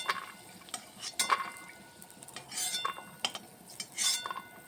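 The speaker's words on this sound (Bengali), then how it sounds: "বাদামগুলি যতক্ষণ পর্যন্ত সুন্দর একটা গন্ধ না বেরোবে ততক্ষণ লাল লাল করে ভেজে নিতে হবে" Peanuts frying in a pan with a spoon scraping and stirring, soft sizzle running underneath intermittent metallic scrapes and clinks, close and fairly quiet throughout.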